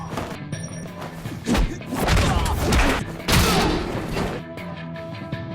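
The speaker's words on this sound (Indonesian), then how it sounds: "Satu persatu anak buah Sasa dihajar dengan brutal" Brutal blows land in a kung fu fight with a Hong Kong fighter, a flurry of heavy thuds, smacks and crashes bunched in the middle, loud and close over a tense musical backdrop.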